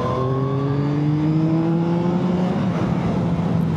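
A Yamaha MT-09 Y-AMT motorcycle engine revs hard in second gear, its pitch climbing steadily toward high revs before dipping as it shifts up, loud and close with wind rush throughout.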